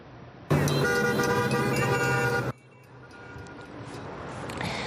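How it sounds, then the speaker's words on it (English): A car horn blares in one long, loud honk lasting about two seconds in support of a street-corner healthcare protest, followed by passing road traffic. "drawing honks of support from vehicles"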